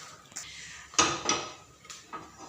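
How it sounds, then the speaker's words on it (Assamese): A metal pressure cooker is set down on a home kitchen stove, giving two close, sharp clanks a moment apart and then a few softer knocks in a quiet room. "ইয়াত কুকাৰটো বহাই দিলোঁ।"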